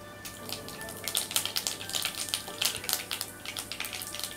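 Mustard seeds crackle and pop in hot oil in quick, irregular bursts, fairly quiet and close.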